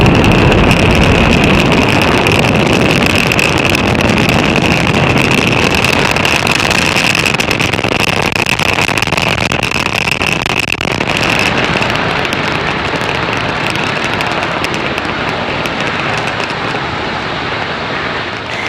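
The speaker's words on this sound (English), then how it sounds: "Falcon 9 has successfully lifted off from Slick 40 at Cape Canaveral Space Force Station in Florida." A Falcon 9 rocket lifts off from Space Launch Complex 40 at Cape Canaveral Space Force Station, Florida, carrying the Thuraya 4 satellite; a loud, continuous broadband roar holds steady throughout and eases off slightly toward the end, with no voices.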